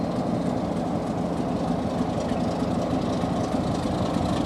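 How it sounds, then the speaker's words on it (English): Class 33 diesel locomotive on the Wensleydale Railway idling as it prepares to leave, a steady low engine throb with a continuous hum, close and unbroken. "Now the train's getting ready to leave now."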